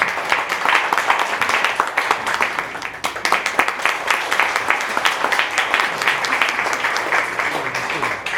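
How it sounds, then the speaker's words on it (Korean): Sustained audience applause fills a church festival hall as a church group is welcomed to the stage, steady dense clapping from many hands throughout with no voices over it. "디아코니아 성교회 독송하겠습니다. 나오시도록 박수하겠습니다."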